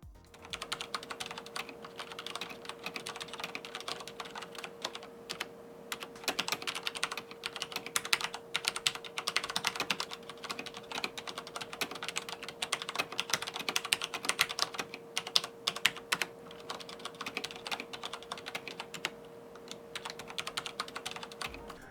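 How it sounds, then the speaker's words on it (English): Typing on a WASD V2 mechanical keyboard with Cherry MX switches fitted with rubber dampener O-rings, a quick, continuous run of close, softened keystroke clicks at a steady pace with no talking, over a faint constant electrical hum. "the first thing I noticed when I started typing on the WASD keyboard"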